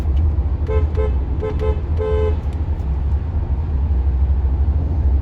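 A car horn toots in a quick series of short honks, several brief blasts in a row, over the steady low rumble of a vehicle interior on a city street in Savannah, Georgia.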